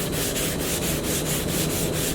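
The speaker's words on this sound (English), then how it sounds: "So now I'm sanding with a block and 150 grit sandpaper" A flat block wrapped in 150 grit sandpaper scrubs a café racer motorcycle fuel tank in quick back-and-forth strokes, a close, rhythmic gritty rasp with regular pulses and no talking.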